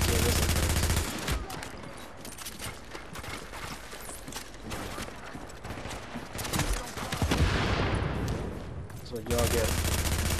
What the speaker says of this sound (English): I bet they're shooting like two bullets at a time.